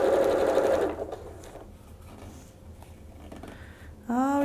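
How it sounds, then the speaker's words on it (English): A sewing machine stitches quilt pieces, a loud, close, rapid whirring run that stops, leaving quiet handling noise, then starts up again with a rising whine. "I typically go up about an inch and I just start sewing from there."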